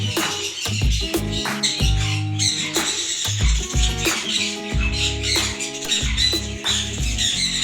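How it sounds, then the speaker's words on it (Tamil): Birds squawk and chirp repeatedly at a busy bird and pet market in Dubai, a dense, overlapping chorus of harsh calls close by, with steady clamor and no talk. "இங்கே வந்து நிறைய வெரைட்டியான பேர்ட்ஸ்லாம் அவைலபிளாக இருக்குது"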